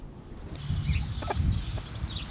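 A broody hen clucks softly and repeatedly nearby, low murmuring clucks with a couple of sharper notes, no talking.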